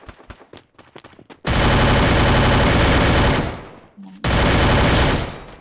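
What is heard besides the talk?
gunfire in a shooting video game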